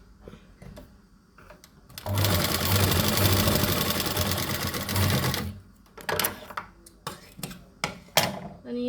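A sewing machine stitches fabric for a hair band in one loud, continuous buzzing run of about three seconds, set between quieter handling clicks and rustles nearby.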